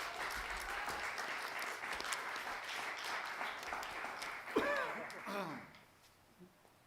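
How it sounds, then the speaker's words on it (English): Audience applause at a board of education meeting, a modest round of clapping from a room of people that fades after a few seconds, followed by a short murmur and throat sounds. "So everybody give Adriana a round of applause."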